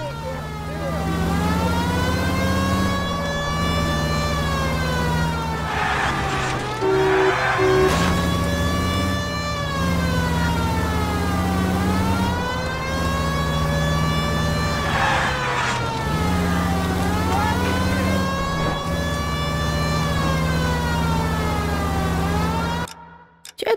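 Police car sirens wail in the L.A. Noire video game, a loud, steady, rising-and-falling electronic wail that repeats in long cycles over engine noise, with a few brief extra sounds mixed in.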